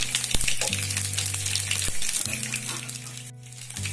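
Loud oil sizzling with crackling spits as tempering seeds and garlic fry for coriander chutney, briefly broken by sharp clinks of a utensil, then steady frying continues.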